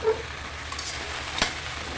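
Okra fries in an old frying pan with a soft, steady sizzle and one faint clink partway through.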